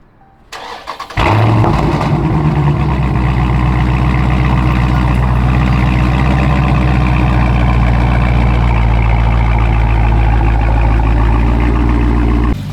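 A Dodge Charger Daytona 392 with a 6.2 engine cranks briefly, fires, then settles into a loud, steady idle rumble held close to the microphone, with no one talking.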